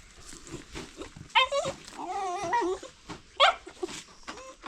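A dog whimpers and whines in high, wavering cries broken by short low growls and snuffles, close by and fairly loud at an outdoor home yard.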